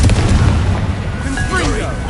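A Confringo fire spell cast in a video game makes a loud, dense booming blast that fills the clip, with a whooshing, swirling tail toward the end.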